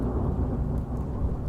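A thunderstorm rolls on with a deep, continuous rumble of thunder under steady, heavy rain.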